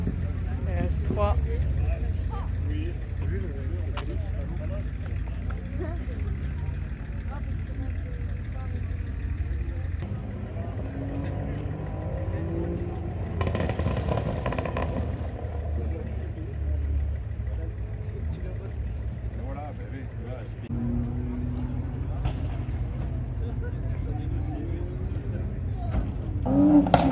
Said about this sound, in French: des voitures qui partent là-bas, qui font du bruit bien comme il faut